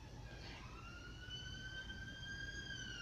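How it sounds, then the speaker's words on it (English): A non-police emergency siren passing outside, heard indoors as a steady wailing tone with rising pitch, holding moderately loud over a low rumbling background for the whole stretch. "Another siren."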